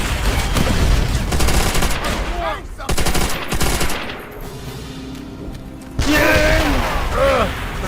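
Rapid automatic gunfire and heavy bursts in the Call of Duty: World at War video game, loud and sustained with brief lulls, joined by mechanical clanks and a tank-battle din, with players talking faintly underneath.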